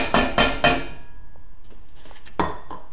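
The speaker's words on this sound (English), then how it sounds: "you're going to put your white sugar into a saucepan." White sugar goes into a metal saucepan with three quick clanking knocks, a stretch of soft rattling, then one more sharp clank, close and loud against a quiet kitchen.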